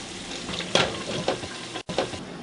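Nigerian jollof rice sauce simmering in a pot and being stirred, soft bubbling sizzle with a few quick scraping stirs of the spoon against the pot, close and fairly quiet.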